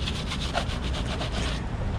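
Greasy grime being scrubbed off a Ducati Monster 620 motorcycle during a wash, a continuous close rhythmic rubbing with repeated brushing strokes for about two seconds, no voices.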